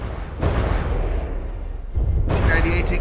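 Tank cannon fire in a video game battle between a T90A and Egghead: two heavy booming shots, each followed by a long rumbling decay. Loud and close, with a commentator's voice partly under the blasts.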